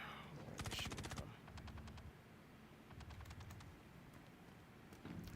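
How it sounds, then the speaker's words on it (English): Gunfire in the video game Star Citizen: quick rattling bursts of automatic shots, one heavy volley near the start followed by lighter scattered rounds, all faint and set against a steady background rumble. "Where are they shooting from?"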